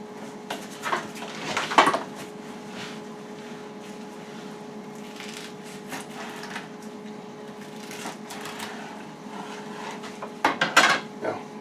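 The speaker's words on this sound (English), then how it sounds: "Now, I'm going to slice this breast." Knife and metal pan clatter while a barbecued, smoked Texas-style Thanksgiving turkey breast is sliced, quiet with a steady faint hum underneath and a few sharp clinking bursts near the start and end.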